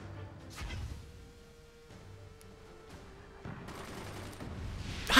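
Machine guns fire in the Forts co-op strategy game, with rapid bursts of gunfire at low volume amid faint background game noise and a louder crack at the very end.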